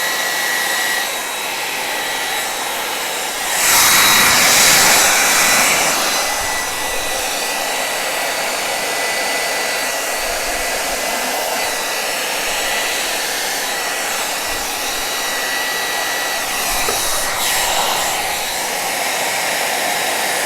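A hair dryer blows acrylic paint across a wood round in a purple Dutch pour. The loud, steady whoosh runs throughout, with two stronger gusts.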